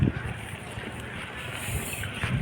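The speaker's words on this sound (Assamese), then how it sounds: "বহুত ঠাণ্ডা বতাহ দি আছে" Cold wind blows outdoors in gusty rumbles, buffeting the microphone with low, uneven bursts and a soft broadband hiss.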